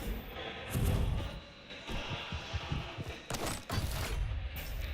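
Rocket launcher fire and blasts in the arena shooter Quake Champions, a dense barrage of booming explosions and gunfire bursts layered over continuous game noise, loud and busy with no pause.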